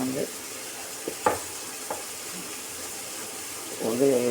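Tomatoes, ginger and garlic frying in a pan, a steady soft sizzle with a few brief stirring scrapes and faint voice-like sounds at the edges.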